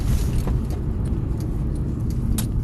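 Steady low rumble of a Honda Accord rolling as it pulls over, a continuous close road and engine drone from inside the car with no voices.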